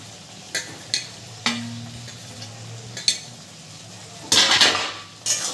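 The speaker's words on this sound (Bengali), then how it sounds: "ধনেপাতা কুচিটা দিয়ে একটু নেড়ে নিচ্ছি" Chopped coriander is stirred into a dry potato curry (aloor dom) in a pan, with a soft sizzle broken by sharp metallic clinks and scrapes of a spoon at irregular intervals. A louder burst of scraping comes near the end.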